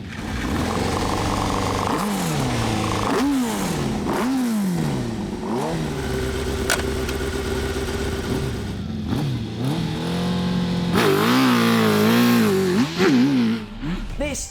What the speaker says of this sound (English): This is a custom GSXR 1000 dirt bike built by our mate Chris Thorpe